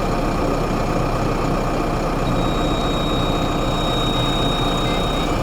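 JCB 3CX backhoe loader with its diesel engine idling, a steady, loud, close rumble that holds unchanged throughout, joined partway by a thin, high, continuous tone.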